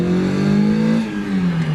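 A Mazda Miata with a broken clutch and transmission revs hard, its engine droning loud and close with a steady pitch that sags slightly near the end.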